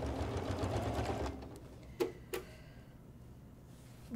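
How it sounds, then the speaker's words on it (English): A Janome sewing machine stitches binding onto a quilt in a fast, even whir for over a second, then stops, leaving a couple of sharp clicks in a quiet room. "Lining up the edges of my binding and my quilt, and I am going to sew."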